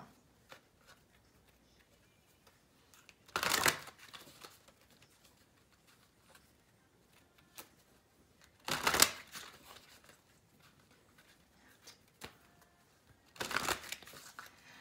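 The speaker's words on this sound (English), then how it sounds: "So this is the Universal Love Healing Oracle cards by Tony Carmine Salerno." Universal Love Healing oracle cards are shuffled in three brief, crisp riffling bursts spaced several seconds apart, close by in an otherwise quiet room.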